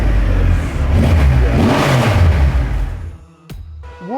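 A Triumph Rocket 3 motorcycle engine fires up and revs hard, a loud, close, sustained roar that swells and dips, then cuts briefly to near silence before a sharp restart and rising rev.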